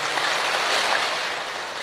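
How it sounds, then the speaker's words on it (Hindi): Hands clapping three times during a group Shiva meditation session, a dense, steady burst of claps that smears into a continuous wash with no gaps between strikes. "तीन बार तालियां बजाएंगे"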